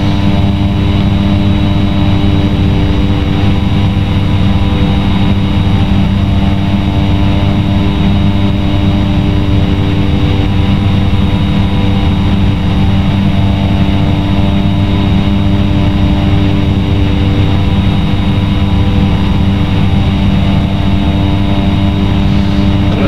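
Steady, loud single-engine turboprop drone of a Cessna 208B in a flight simulator game, a continuous hum with fixed tonal layers and no break or change across the whole stretch.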